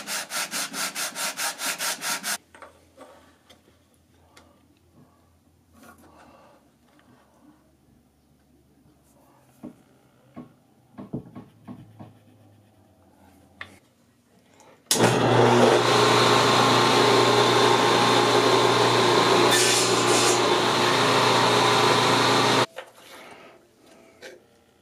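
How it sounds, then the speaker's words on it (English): A power sander buzzes loudly against wood while levelling a bandsaw box for several seconds, after shorter bursts of sanding and scattered handling clatter in a quiet room. "Now I'm just going to do some sanding to level everything out"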